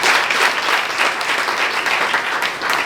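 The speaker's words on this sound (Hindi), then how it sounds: "इसके लिए ताली बजाओ" A short burst of steady audience clapping in a group, many hands together at moderate loudness with no voices over it.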